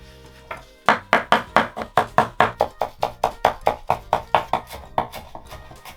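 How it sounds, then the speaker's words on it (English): Shiso leaves sliced thin with a knife for a salmon pasta, a quick steady run of about seventeen crisp chopping taps on a cutting board, close and clear with no talking. "Shiso leaves. Slice them thin so they mix well with the pasta."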